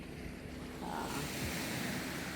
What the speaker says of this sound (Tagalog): Dito ako sa dagat.